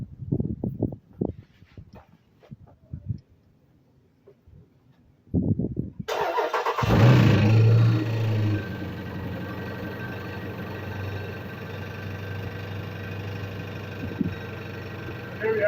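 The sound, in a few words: 2014 Jeep SRT8 engine starting and running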